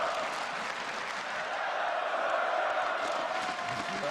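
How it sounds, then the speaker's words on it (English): A large esports arena crowd at the League of Legends NA LCS Summer Finals roars and chants in a sustained, rhythmic mass of voices with some clapping, steady and loud throughout. "hear the crowd there. I believe that's Let's Go Turtle."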